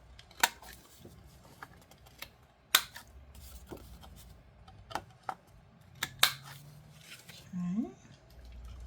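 Scissors trimming the corners of a paper envelope, several sharp snips scattered irregularly at close range, quiet, with soft paper handling between cuts.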